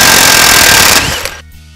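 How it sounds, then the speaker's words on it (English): A Polaris wheel bearing removal tool is driven by an impact wrench with a 24 mm socket, making a loud, rapid rattling hammer burst that lasts just over a second and then cuts off. "hold onto it tight and hammer down."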